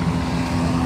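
Motor trawler engine on a river near Chandpur, a steady loud low drone running throughout without a break.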